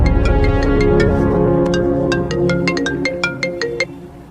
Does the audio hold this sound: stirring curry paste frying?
no